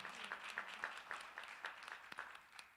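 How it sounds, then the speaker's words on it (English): An audience applauds after a woman shares her personal testimony at a healing gathering, producing a short burst of moderate clapping with distinct individual claps standing out in a steady, slightly uneven rhythm. "Can y'all please clap it up for Kenyatta sharing her testimony?"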